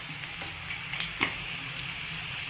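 Chillies and curry leaves fry in hot oil with a steady, fairly quiet sizzle. One brief stir or clink comes partway through, and nobody speaks.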